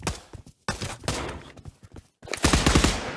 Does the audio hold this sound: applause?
no